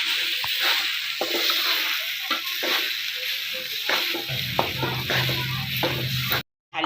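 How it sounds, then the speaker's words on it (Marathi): Boiled potatoes stirred into spiced masala in a pan for bread pakora, a close sizzle with repeated spoon scrapes and soft knocks against the pan, continuous until a brief cut near the end. "आलू छान मिळून घ्यायच्या मसाल्यामध्ये"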